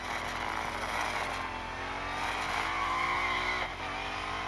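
Tyres on a Chevrolet Corvette Stingray C8 Limited Series skid in a racing game, a sustained squeal over the droning engine that holds steady before dipping briefly near the end.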